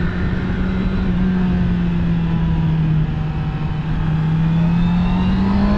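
A Honda CBR650R E-Clutch motorcycle engine, about 100 horsepower, pulls hard through the middle of its rev range while being ridden, a loud, steady, close engine drone with slowly shifting pitch and no talk.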